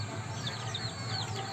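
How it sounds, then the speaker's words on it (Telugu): Chickens clucking at a resort animal enclosure, soft scattered clucks and chirps over steady background noise. "ఈ కోళ్ళు ఏంది ఇట్లున్నాయి?"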